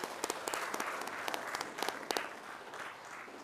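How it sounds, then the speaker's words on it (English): At a school board meeting, an audience applauds with scattered, uneven claps, fairly faint and distant, some sharp individual claps standing out over the crowd's patter for a few seconds. "Let's give a big round of applause for our engineering."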